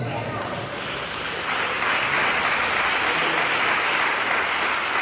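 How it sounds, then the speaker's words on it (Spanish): A church congregation claps for the Lord in a steady, dense wash of applause that swells and grows louder after the first couple of seconds and holds to the end. "¿Cuántos dan un aplauso al Señor?"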